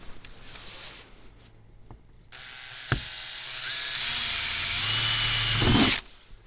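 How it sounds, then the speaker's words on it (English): A power drill whirs up after a couple of quiet seconds and runs steadily for several seconds drilling a hole in a camper van, its high whine growing louder before stopping abruptly. "we can choose a spot to drill our hole"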